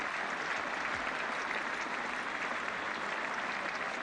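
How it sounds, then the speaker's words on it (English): Crowd at a 1980 England v West Indies Test cricket match cheering and applauding for Boycott, a dense, steady roar of clapping from a large stadium audience throughout, loud and continuous with no pause. "So something after a lean period at last for the crowd to a decent cheer there for Boycott"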